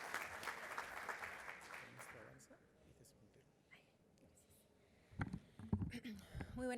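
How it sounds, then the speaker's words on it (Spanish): Applause greets the executive president of Peru's OCE at a construction forum, a modest burst of clapping that fades after a couple of seconds; a quiet lull follows, then a voice begins speaking. "Recibamos con un fuerte y cariñoso aplauso a la presidenta ejecutiva del OCE."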